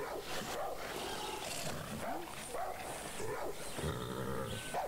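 Several aggressive dogs bark and growl in repeated bursts in the video game Far Cry 6, at moderate distance over a game soundscape.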